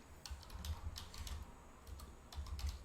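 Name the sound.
typing a search into a website on a keyboard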